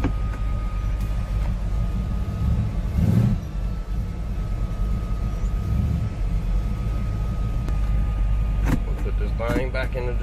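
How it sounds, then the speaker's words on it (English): A 1966 Chevelle Malibu with a 327 V8 drives down the road on a test drive, its engine giving a steady low rumble inside the cabin throughout, with brief voices and small interior noises near the end. "About to put the hood down on the car and we'll take it for a little test drive down the road."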